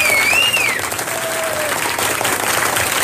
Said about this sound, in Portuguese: merecem um aplauso de pé